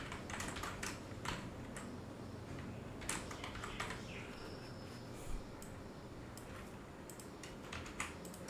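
Close, quick clicking of a computer keyboard as text is typed into Microsoft Word, with irregular bursts and short pauses over a quiet room hiss.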